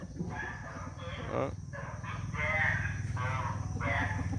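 Fighting cocks crow and cluck steadily for several seconds, their harmonic calls layered and fairly close, with a short spoken word near the start.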